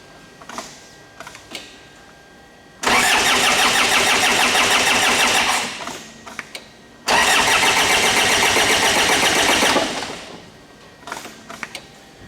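A Ford Ranger / Mazda BT-50 engine cranks without starting in two long, loud bursts, each about three seconds of steady starter-motor churning, with quiet pauses and a few clicks between them.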